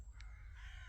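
A person imitates a crow's harsh caw, a single rasping call lasting about a second, close and fairly loud over a low background rumble.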